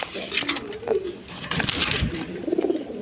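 Big-sized pigeons in a breeder's loft give soft, low, rolling coos close by, repeating several times while someone talks over them.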